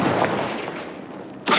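A Confringo blasting spell goes off in Hogwarts Legacy as a sharp, loud explosive burst that fades into a rumbling tail, with a second blast hitting at the end.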